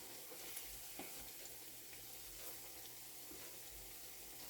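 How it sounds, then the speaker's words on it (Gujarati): Ragda patties fry in a hot pan, giving a steady, quiet, even sizzle that hisses on without a break and with no one talking. "થોડી બ્રાઉન કલરની થાય ત્યાં સુધી આપણે રહેવા દઈશું. આ રીતે આપણે બધી ફ્રાય કરી દેવાની છે."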